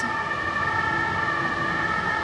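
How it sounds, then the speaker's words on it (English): An ambulance siren wails steadily in the background, loud and continuous, with its tones holding through the short stretch and no voices. "There's an ambulance, I think, behind me."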